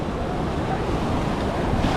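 Sea waves roll onto a beach at Nusa Penida as a steady, loud wash of surf, heavily mixed with wind buffeting the microphone, with no clear breaks or pauses.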